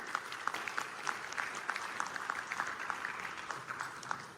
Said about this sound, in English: But big round of applause for each of us.